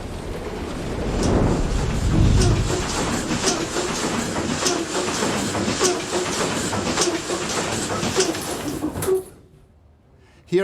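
Two large six-cylinder diesel engines of 1,500 horsepower each run inside the engine room of the WWII U-boat U-96, giving a loud, steady mechanical roar with a rhythmic clatter that cuts off abruptly near the end.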